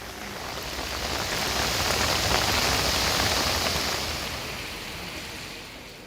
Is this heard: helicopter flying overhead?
no